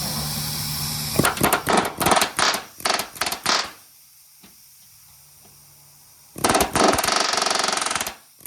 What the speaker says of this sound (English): We're using an air hammer to get these bolts out of here.